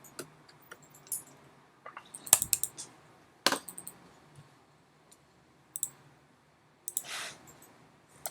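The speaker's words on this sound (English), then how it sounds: "Double click on level." Computer mouse clicks come in a few sparse, sharp bursts, including a quick double click, at close range in a quiet room with faint background hiss and no talk.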